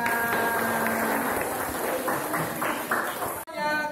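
Students in a classroom clapping hands, a loose burst of overlapping claps with a few distinct rhythmic beats, mixed with voices and ending in an abrupt cut.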